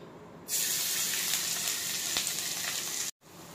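A crushed ginger-garlic paste with fennel and black pepper hits hot coconut oil for an egg roast, bursting into a loud, dense, steady sizzle that holds strong before a brief break, with no one speaking.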